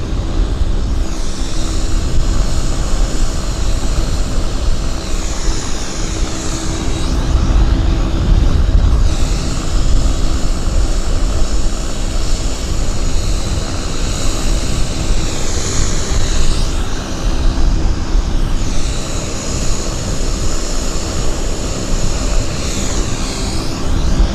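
Cathay Pacific airliner landing at Vancouver airport, a loud continuous jet engine roar with rising and falling whine, sustained throughout and heard from nearby.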